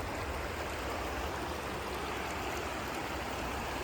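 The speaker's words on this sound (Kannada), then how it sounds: "ಇವಿ ನೀರು ಹರಿತಿರೋದು" A river runs low over exposed rocks beside a riverside temple, making a steady, close, full rushing wash with no pause and no other sounds.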